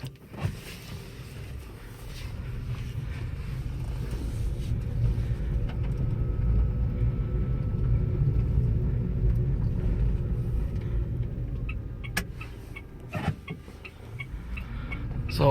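Electric 2012 Mitsubishi i-MiEV driving around the block, a low steady road and tyre rumble from inside the cabin that swells and eases with speed, with a few light clicks and knocks near the end.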